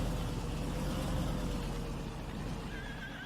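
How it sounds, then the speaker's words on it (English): A horse in the Farming Simulator 19 video game gives a clear neigh over a dense, steady background of game noise and engine rumble. "The horse is hungry."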